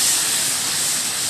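Adobo caramel sauce made with cola and four dried peppers boils in a pan, giving a short, steady, close bubbling hiss.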